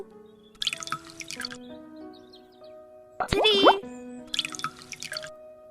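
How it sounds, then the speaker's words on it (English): Water poured from small bottles into a bowl gives a short, gurgling, rising fill sound, loud and close, between stretches of a person speaking. "let us see how many of these bottles fill this bowl."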